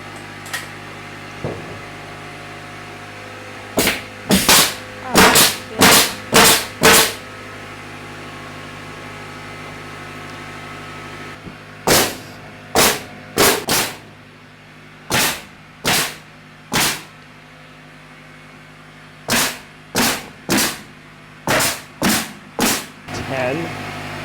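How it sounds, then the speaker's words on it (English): A nail gun fires in the cold in quick bursts of four or five sharp, loud shots, with short pauses between each group, over a low steady background hum. "But the nail gun's not liking it today."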